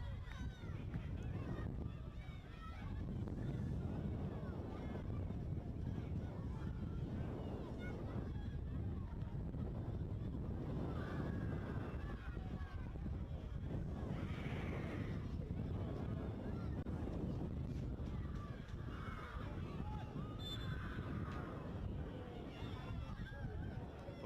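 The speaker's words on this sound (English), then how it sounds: "Wind is really picking up out there." Strong wind buffets the microphone at an outdoor football ground during a men's league match, a steady low roaring rumble throughout with a commentator's voice underneath.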